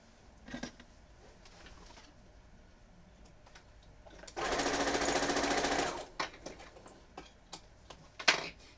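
A sewing machine stitches a row of a pixel-style Pac-Man and Tetris quilt, running in one continuous whirring burst of about a second and a half between scattered soft clicks and taps, with no voices.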